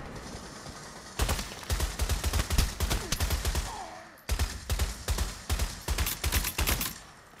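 Bursts of gunfire in a Pavlov VR free-for-all deathmatch on PSVR2. Loud, close shots come in fast runs, break off briefly, then resume in another quick volley.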